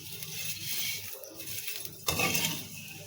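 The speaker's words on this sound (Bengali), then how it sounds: "আমি যে ঘি দিয়ে হালকা নাড়াচাড়া করে ভেজে নিচ্ছি।" Semai vermicelli is being stirred and fried in ghee in a pan, with faint, quiet metallic clinks and scrapes of the utensil against the pan.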